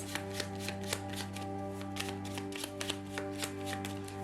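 Tarot cards shuffled in steady, repeated riffles and soft taps, close and moderately loud over a constant background hum, no talking.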